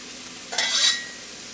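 Minced serrano chili drops into a hot pan and gives a short, bright sizzle that swells and fades within about half a second, close and alone.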